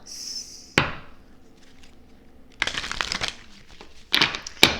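A new deck of tarot cards is handled and shuffled up close in three separate bursts of riffling, rustling card noise, each followed by a quiet pause with a faint high tone at the very start.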